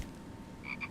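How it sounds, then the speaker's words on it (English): A frog croaks in The Infected survival game, two short croaks close together near the end over a low ambient bed of wind and forest noise. "I can hear another frog."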